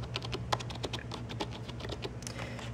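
Quick, fairly quiet keystrokes on a Logitech K400 Plus wireless touch keyboard tap out in an uneven stream, heard close up over a faint low hum with nobody speaking.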